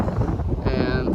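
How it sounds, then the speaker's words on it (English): Strong wind buffets the microphone on the open deck of a Disney Wish cruise ship crossing the Atlantic, a loud, steady roar with gusty rumble and no break. "it's a windy day out here"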